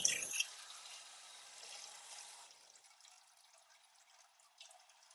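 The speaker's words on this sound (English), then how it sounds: "Cold water. So I'm going to have 500 mils in here." Cold water poured into a container in a darkroom setting, a short splashy burst at the start fading into a faint trickle and settling drips, fairly quiet and close.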